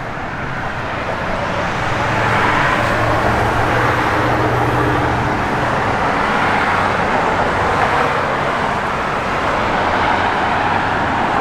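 A 1971 Chevrolet Chevelle SS with a 454 V8 runs with a steady, loud engine rumble without pause, a deep continuous drone with broadband roar and no talking.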